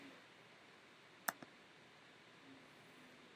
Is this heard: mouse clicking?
yes